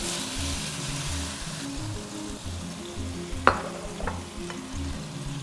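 Chicken stir-frying in oil in a pan, a steady close sizzle with stirring, a few sharp utensil clinks and scrapes breaking through near the middle.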